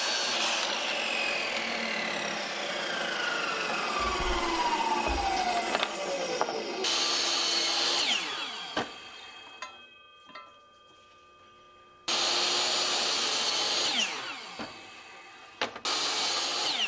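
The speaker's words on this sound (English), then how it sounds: "I'm just countersinking some holes for the screws to go into." A power drill countersinks screw holes in wood for a mudroom bench and coat rack, its motor whining in several bursts that rise and fall, separated by quiet gaps and small clicks.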